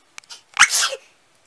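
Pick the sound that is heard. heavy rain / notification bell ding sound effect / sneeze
sneeze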